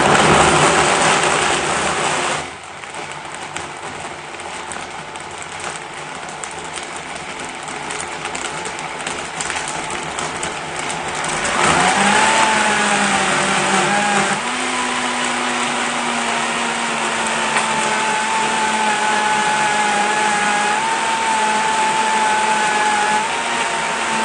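BioChef vacuum blender blending a tropical carrot smoothie: a steady loud motor whir runs throughout, dipping briefly then shifting pitch and strengthening near the middle as it continues without talk.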